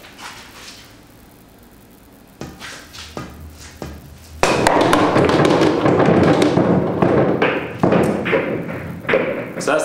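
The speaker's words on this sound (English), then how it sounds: "I'm going to lag these three balls towards the side pocket and then shoot the one ball last, but it'll go in first" Pool balls are lagged toward the side pocket in an inverse speed trick shot. A run of sharp cue and ball clacks and thuds is followed by a dense flurry of knocks as the balls roll and drop into the pocket.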